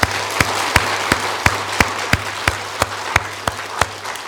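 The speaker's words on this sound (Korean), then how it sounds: "그럼 영광의 박수 한번 더 할까요?" A church congregation at a Korean Thanksgiving Sunday service claps together in a steady, even rhythm, about three sharp beats per second, over a low background hum.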